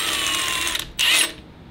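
A pneumatic impact wrench runs a bolt down on an engine during a frozen-piston teardown, a loud continuous whirring buzz for nearly a second, a brief gap, then a second short burst.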